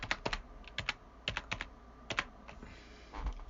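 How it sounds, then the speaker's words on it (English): Keys tapped on a computer keyboard while an eight-digit numeric passcode is entered, giving close, crisp clicks in small irregular bursts with short pauses between them. No one speaks. "in here basically you've just got to type in a 8-digit passcode,"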